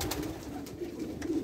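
Newly arrived breeding pigeons imported from Germany coo softly and steadily close by in spring, low murmuring calls repeating without pause.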